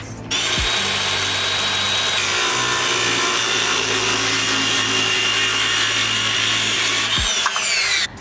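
Wood being cut outdoors for a DIY record player stand, a steady, loud continuous power-saw whine running nearly the whole time, starting and stopping abruptly with a brief thump at each end.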